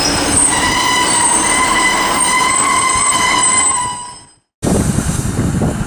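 A Northern passenger train pulls away from Liverpool South Parkway station, a loud, close, steady rumble with tonal wheel and motor whine that fades out, then a sudden burst of noise after a brief gap.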